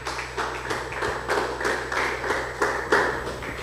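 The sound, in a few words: audience clapping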